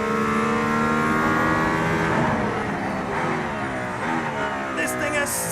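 A Mercedes-AMG ONE hypercar accelerating hard on a track in Barcelona, heard from inside as a loud, rising engine whine that climbs steadily through the gears, with a voice talking over it.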